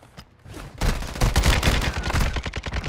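Rapid automatic gunfire in Call of Duty Warzone 2 bursts out after a brief quieter lead-in, a dense, loud fusillade of overlapping shots with sharp individual cracks continuing to the end.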